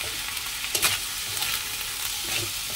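Rice sizzles and crackles in a hot pan with a little soy sauce and vinegar, with scraping stirs from a utensil breaking through the steady frying hiss.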